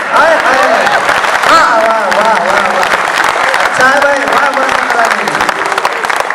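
A large audience at a Hindi comic poetry gathering applauds loudly and continuously, and cheering voices rise through the clapping.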